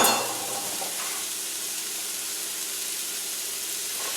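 Onions drop into a hot pan and burst into loud, close sizzling. The spattering hiss peaks at once, then settles into a steady, even fry that runs on with no one talking.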